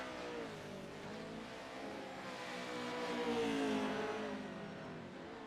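A Pro 4 stadium truck race, with the 86 Beef Jerky Unlimited truck among the field: a continuous, fairly loud roar of racing engines that swells and peaks toward the middle, revving with shifting pitch and no voices.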